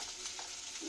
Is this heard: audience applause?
no